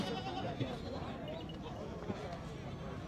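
Goats bleat at a crowded livestock market, a few short calls rising over dense crowd chatter and nearby talking.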